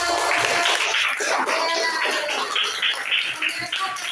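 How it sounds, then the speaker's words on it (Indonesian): Schoolchildren in a classroom lesson clap together in a dense, steady wash of applause that fills the room, with young voices calling out over it. "Tepuk tangan untuk kita semua."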